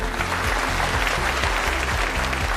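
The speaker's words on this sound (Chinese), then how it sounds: "让我们掌声欢迎他们。" An audience claps for two surgeons introduced on stage at a plastic-surgery industry competition, a dense wash of applause under a loud, pulsing musical beat.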